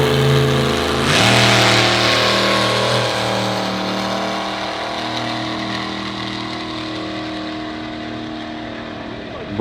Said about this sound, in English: Here we go, the world's craziest fire truck.